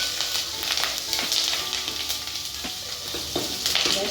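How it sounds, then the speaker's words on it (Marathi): Curry leaves sizzling in hot oil for a whole moong curry, a steady, close, loud hiss broken by sharp crackling pops throughout, with no talking. "कढीपत्ता घालायचा आहे"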